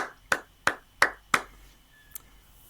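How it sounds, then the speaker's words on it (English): Four slow, evenly spaced hand claps, loud and close, in a deliberate golf-clap rhythm, followed by a faint single tap; no voices. "Thank you for that golf clap and that sarcastic clap."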